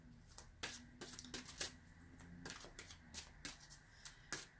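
Tarot cards are shuffled quietly at close range, a series of soft, crisp riffling bursts at an irregular rhythm with no talking.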